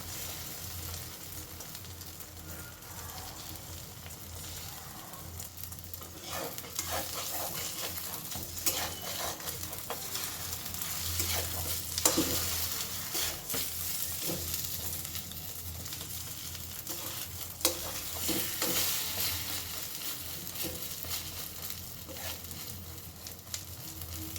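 Beaten egg cooks like an omelette in a pan, giving a steady soft sizzle with occasional scrapes and stirring clicks, moderately close and continuous with no talk.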